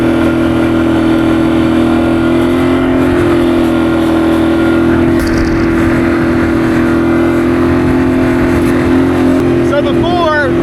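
A Can-Am Outlander XMR ATV in 4-wheel high drones loudly and steadily while trail riding through deep sugar sand, a strong even engine tone holding near constant with wind rush throughout.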